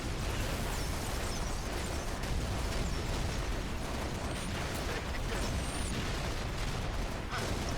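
Constant gunfire and explosions hitting the player in Halo: Reach, a dense unbroken barrage of blasts and impacts that stays loud through the whole stretch.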